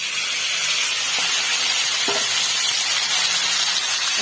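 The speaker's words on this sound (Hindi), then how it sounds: "चुंगुड़ी को आम फ्राई करवा" Prawns fry in hot oil in a kadhai with a continuous, close sizzle and hiss, steady and unbroken throughout, with a couple of faint clinks and no voices.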